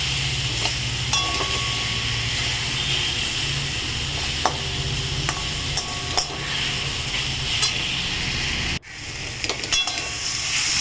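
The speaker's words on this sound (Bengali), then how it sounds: "নুন দিয়ে আবার একটু আমটাকে ভালো করে নাড়াচাড়া করে নেব।" Salted mango is stirred in a pan over a continuous sizzle, with scraping strokes and an occasional clink of utensil against metal, and a brief pause near the end.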